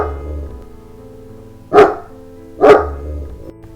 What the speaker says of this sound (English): As we got closer, Josie started barking.